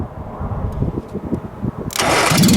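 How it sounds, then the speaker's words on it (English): A 1963 Mini Cooper engine, rescued from a scrap yard, cranks with a rhythmic starter churn for about two seconds before catching. It then roars into a loud, steady running note close by. "Try to start it one more time."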